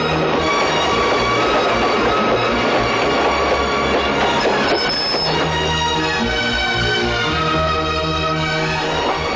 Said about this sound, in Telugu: బండి కదులుతోంది